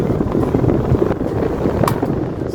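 A repaired three-speed electric fan runs at its top speed, giving a steady broadband whoosh of moving air close to the microphone with no talk.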